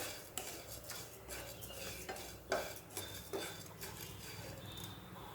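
Rice and grated dry coconut are roasted together in a pan for kheer. A spatula scrapes and knocks against the metal in repeated strokes over a faint sizzle, close and quiet, with no talk.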